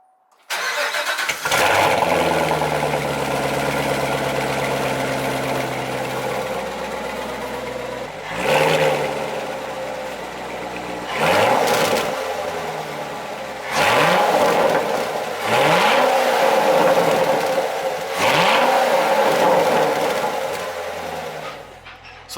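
A wrecked Corvette C7 engine cranks and catches, then settles into a loud, close idle broken by several sharp revs in the second half.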